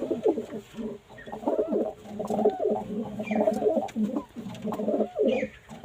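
A pigeon coos close by in deep, throaty, repeated phrases that roll on almost without pause, with no voices over it.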